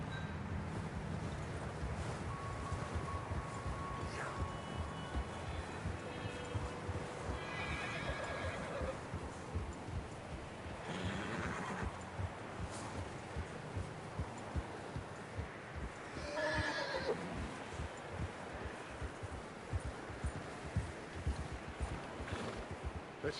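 A horse in Red Dead Redemption 2 snorts and whinnies with steady clip-clop hooves on the ground, moderately close, with faint rustling ambience and no talk.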